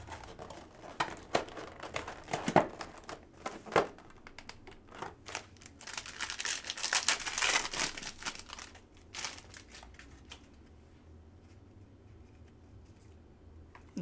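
A 2015 Prizm Jumbo trading card pack torn open by hand, close crinkling and ripping of foil wrapper in quick irregular bursts that build to a louder tear, then settle into quiet.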